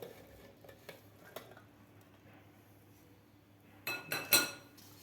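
Boiled peas and spinach are spooned into a steel mixer jar after a quiet stretch, ending in a short cluster of sharp metallic clinks and scrapes near the end.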